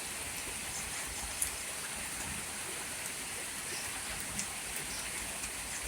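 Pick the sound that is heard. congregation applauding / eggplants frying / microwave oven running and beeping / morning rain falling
morning rain falling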